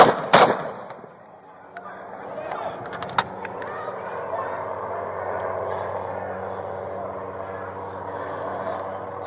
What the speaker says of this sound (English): I fired through the window